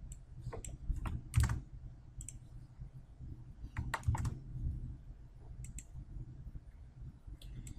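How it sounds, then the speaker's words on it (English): Typing on a computer keyboard while entering a server path during a software installation: faint, close clusters of key clicks separated by pauses over a low steady hum, with no talking. "So hit browse and let's type in the full UNC path."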